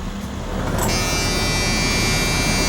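A 2004 Alfa See Ya 36 RD Class A diesel motorhome cranks and catches, settling into a loud, steady close-up idle with a high whine layered over the rumble.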